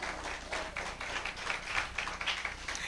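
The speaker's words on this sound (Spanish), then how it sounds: "Dale un aplauso al Señor" Congregation applauding the Lord during a Spanish-language church sermon: steady, dense clapping from many hands at moderate volume, sustained for the whole stretch with no voice over it.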